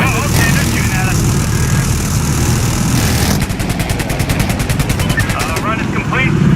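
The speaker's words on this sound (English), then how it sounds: "Taking fire. Okay, they're shooting at us." Video game gunfire from sustained machine-gun bursts, a fast regular rattle standing out midway, mixed with engine or aircraft rumble, while voices talk throughout.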